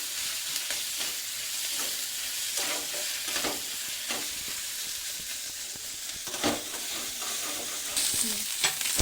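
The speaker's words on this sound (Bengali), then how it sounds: "এই সব কিছু একসাথে কষিয়ে সয়াবিনটাকে দিয়ে আমি ভালো করে একটু ফ্রাই করে নেব" Soybean chunks frying with garlic, ginger and spices, a continuous close sizzle with regular stirring scrapes of a spatula in the pan, no talking.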